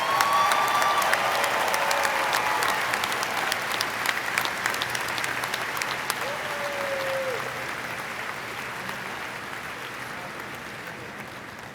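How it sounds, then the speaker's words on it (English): Sustained audience applause at a university graduate school commencement, honoring new doctoral recipients; steady dense clapping from a large crowd that gradually tapers, with a brief voice or whistle faintly heard. "join me in a round of applause for our new doctoral recipients."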